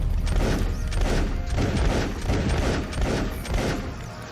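Rapid volleys of cannon fire from a Civilization 7 battle, loud and dense, with booming thuds overlapping continuously throughout.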